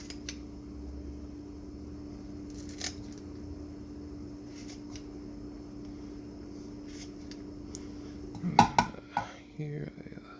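A knife chops through dead mice on a cutting board to make cat food: a short cluster of sharp, close clicks and thuds near the end, over a steady low hum, with a voice faintly in the background.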